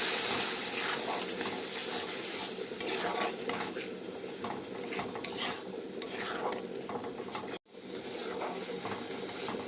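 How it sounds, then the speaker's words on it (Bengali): A spice paste (masala) is stirred and fried in a pan with browned onions for an egg curry. There is a steady sizzle with continuous scraping and clinking from the spoon, close and fairly loud, with a brief break near the end and no talk. "এই মশলাটাকে ভালো করে কষিয়ে নেব।"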